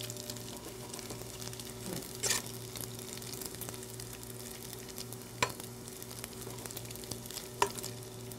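Pork bacon fries in a pan for coq au vin: a soft continuous sizzle over a steady low hum, broken by a few sharp pops or clinks, quiet and close, with no talking.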